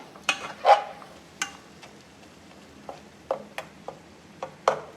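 Eggs stirred and mixed through a garlic chili masala in a pan for an Andhra-style curry: a soft sizzle under sparse, irregular scraping and tapping clicks of a spoon against the pan, close and quiet.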